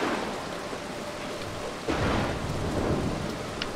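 Thunder and steady rain in the video game Mark of the Ninja, a continuous hiss of rainfall with a deep rumbling thunder roll swelling in partway through, fairly loud, no voices.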